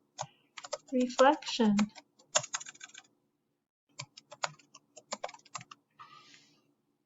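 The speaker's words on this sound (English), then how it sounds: "and then I type week 10" Typing on a computer keyboard, bursts of quick close key clicks in short runs with pauses, alongside a person speaking.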